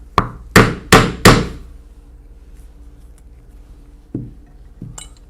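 Leather punched with a 3/4 inch oblong punch, four loud close mallet strikes in quick succession followed by a quiet gap and two lighter knocks, with no voices.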